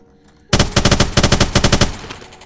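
A sniper rifle fires in Minecraft, a sudden burst of rapid, sharp gunshots in quick succession that stays loud for about a second and a half, then trails off into a fading echo.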